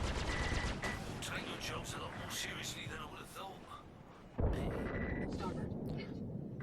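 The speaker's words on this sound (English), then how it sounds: "I'm gonna use a missile first." Missile launch in Star Citizen, a sudden loud whooshing burst over constant spaceship rumble and clattering weapon noise, with a voice talking throughout.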